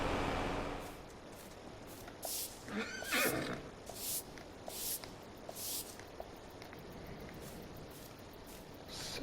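A horse whinnies loudly up close in the game Farming Simulator 22, followed by scattered snorts and soft bursts of breath, with quiet rustling in between.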